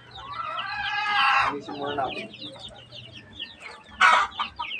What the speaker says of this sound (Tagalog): pakain ulit tayo sa ating mga alagang manok.